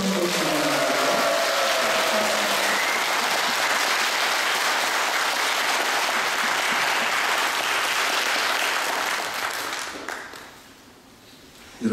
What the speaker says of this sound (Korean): 반주하신 분들, 싱어, 그리고 율동하신 모든 자매들 뒤로 돌아 우리 큰 박수로 한번 주세요